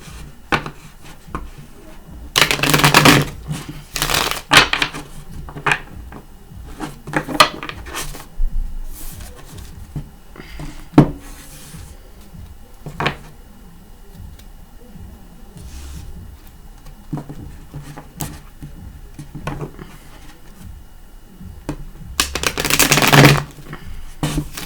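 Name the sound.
shuffling tarot cards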